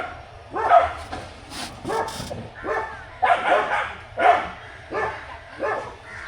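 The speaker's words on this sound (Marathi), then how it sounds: "कुत्र्यांना हल्ली काय झाले काय माहिती, नुसते भुंकत असतात." Dogs bark repeatedly outdoors near a spot where an auto-rickshaw waits, with several loud, close barks and yips coming in uneven bursts that alternate with brief pauses.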